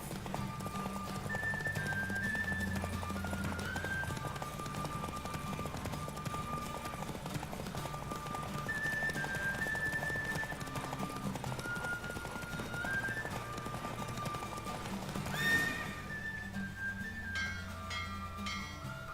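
Horse galloping in a race in the video game The Witcher 3, rapid rhythmic hoofbeats driving steadily throughout over game music, with a neigh near the end and occasional game voice.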